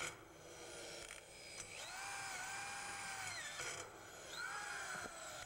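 A power screwdriver drives self-tapping frame screws into the metal joints of a building's back enclosure, several whirring runs that rise and fall in pitch, close and fairly quiet.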